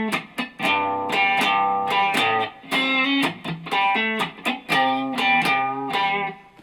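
Clean electric guitar plays the measure 11 variation of a song, a quick run of plucked notes and short chord stabs, close and moderately loud with no voice.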